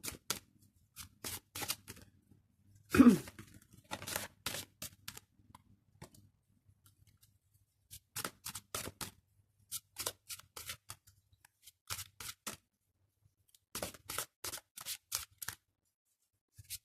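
Tarot cards being shuffled in short separate bursts of soft riffling and flicking, close and quiet, with pauses between bursts and one brief tap; no talking.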